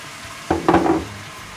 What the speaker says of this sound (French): je viens de singer la viande, je viens ramener le vin blanc